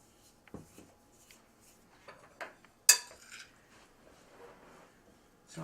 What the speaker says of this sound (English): So I'll just mix that up quickly.